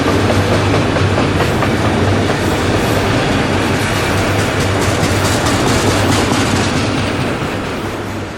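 A 10,000-foot-long freight train rolls past an orange grove heading north, a loud, steady rumble of railcars with rhythmic clickety-clack of wheels over rail joints, fading slightly at the end.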